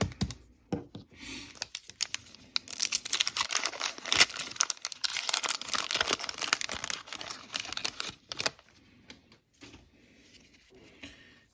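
1987 Topps baseball card wax packs are torn open by hand, giving close, busy crinkling and ripping of wax wrappers with rustling card handling, loudest in the middle and tapering to sparse crackles.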